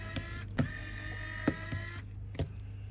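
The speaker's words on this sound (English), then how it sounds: "we've got all these screws that we need to remove now" Small screws being removed from a Samsung Galaxy S20 phone with an electric screwdriver, a steady whirring motor punctuated by a few soft clicks and taps, close and quiet.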